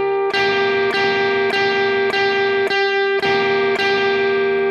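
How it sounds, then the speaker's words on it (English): Electric guitar picking a riff, all downstrokes in steady straight eighth notes, with clear repeated chord attacks ringing out alone and fairly loud. "Right hand rhythm, I'm gonna be downstroking everything, and it's just straight eighth notes"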